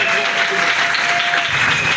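A church congregation applauds in a continuous, dense wash of clapping, mixed with voices and a sustained tone.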